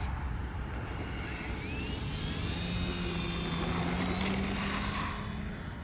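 An E-flite Valiant RC plane takes off over an empty field, its electric motor giving a steady, loud whine that rises in pitch as it climbs away, with no talking.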